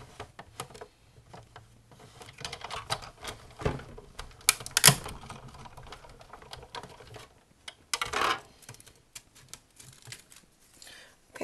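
A card die-cutting machine with a magnetic platform runs as a die is pressed onto silver foil under an acrylic plate, giving quiet ticking and clicking mechanical sounds with a couple of louder sharp cracks, near and fairly soft.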